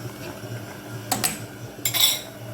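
Metal utensil stirring boiling rice in a pot: a couple of scraping clinks against the pot over a low bubbling hum, close by and without talk.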